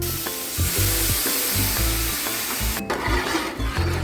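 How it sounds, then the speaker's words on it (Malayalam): Grated coconut in a pan meets jaggery syrup, giving a steady close sizzle broken by rhythmic scraping strokes of stirring, with no voices. "ഇതിലോട്ട് നന്നായിട്ട് തിളപ്പിച്ച് അരിച്ചെടുത്ത് വെച്ചേക്കുന്ന ശർക്കരപ്പാനി ചേർക്കാൻ പോവാം"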